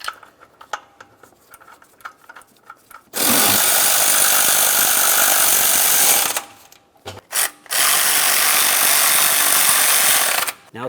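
A ratchet snugging the thermostat housing mounting nuts on a 1994-2002 Dodge Ram 2500: faint tool clicks and handling first, then two long loud bursts of fast buzzing ratcheting close up, split by a brief gap.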